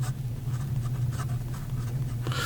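A Pilot Justus 95 fountain pen with a medium gold nib writes on paper in steady, soft scratching strokes, close up over a constant low hum, with no talking.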